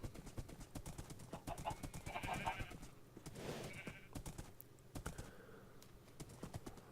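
Horse hooves in Minecraft, a rapid run of clip-clop steps at an even gallop rhythm, fairly quiet, with a few brief animal-like calls mixed in.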